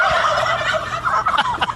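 A mob of turkeys gobbling loudly and close, with several overlapping rattling gobbles building into quick bursts toward the end.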